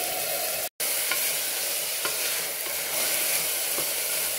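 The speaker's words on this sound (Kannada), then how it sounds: "ಇವಾಗ ನಾನು ಇದಕ್ಕೆ ಹುರುಳಿಕಾಳನ್ನ ಹಾಕೊತಾ ಇದ್ದೇನೆ." Horse gram tipped into a pan of frying onions and stirred, a loud continuous sizzle with repeated spoon scrapes and one brief cut to silence early on.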